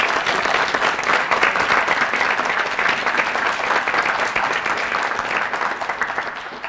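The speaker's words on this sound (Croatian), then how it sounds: "Aplauz za afirmaciju." An audience applauds a school debate team, a dense, steady clatter of many hands clapping at once that holds evenly for several seconds and thins slightly toward the end.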